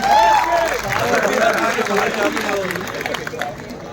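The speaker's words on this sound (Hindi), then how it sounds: "एक बार जोरदार तालियों से आप सदर की मेहनत का इस्तकबाल करें।" An audience at a Jashn e Urdu poetry gathering claps loudly in a dense burst that fades gradually, with a voice speaking at the start.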